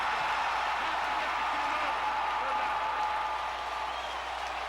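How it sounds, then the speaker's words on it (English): Loud football stadium crowd at a night college game between Ole Miss and LSU, a dense continuous roar of cheering and noise that holds steady throughout with no clear individual voices. "This Ole Miss team cannot get a playoff with this crowd being this loud."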